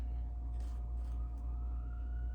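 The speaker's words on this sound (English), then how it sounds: "Can you hear the siren?" An emergency vehicle siren sounds faintly from outside near a medical center and teaching hospital, a thin steady tone over a heavy low rumble of traffic in a home kitchen.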